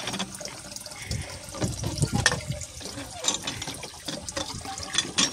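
Water pours into a container with an uneven gurgling splash that rises and falls as it fills, fairly close and moderately loud, with no talking.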